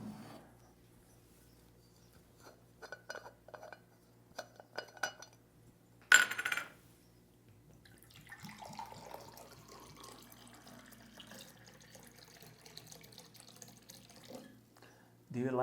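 Glasses clink on a table and water is poured into them, a couple of sharp chimes followed by a longer steady trickle of pouring, with faint voices around.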